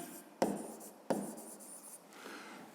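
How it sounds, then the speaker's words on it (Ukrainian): Someone writes by hand on paper, working a maths exercise: two sharp taps of the pen are followed by soft scratchy strokes, close and quiet, with no talk. "Пишемо. На 18 метрів менше."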